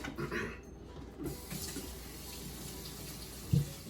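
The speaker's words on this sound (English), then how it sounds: "I'm just going to wash off my celery really quickly" Tap water runs at a kitchen sink while celery is washed, a faint steady splashing hiss with a brief gurgle and small clunk near the end, no talk.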